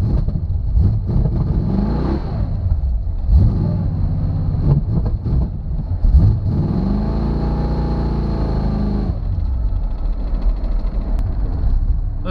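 The engine of a 1976 Chevy Chevelle with transmission trouble revs loudly as the gas is pressed, its pitch climbing and falling in repeated swells before settling into a steady rumble.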